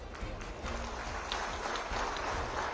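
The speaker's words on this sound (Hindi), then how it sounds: "और ये ताली आपके लिए" An outdoor political rally crowd in Sarkaghat, Himachal Pradesh, applauds, a dense steady patter of many hands clapping at moderate distance with faint crowd murmur underneath.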